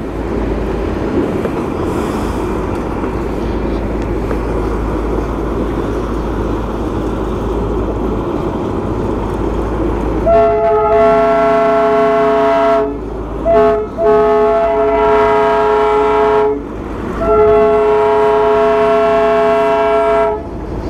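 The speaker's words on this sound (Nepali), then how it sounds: "यो ट्रेनको दर्शन चाहिँ भयो तर डिजल इन्जिन भयो क्या त" A diesel-engine train in Darjeeling rumbles past steadily and loudly, then sounds its horn in several long blasts broken by short pauses, with no talk over it.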